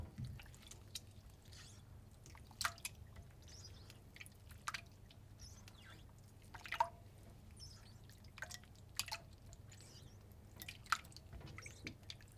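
Soft splashes and wet squishing sounds come in irregular bursts as oysters are gently rinsed in water. The sounds are quiet and close.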